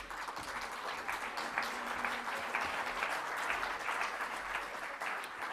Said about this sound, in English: Merci d'applaudir les intervenants de la table ronde numéro 2.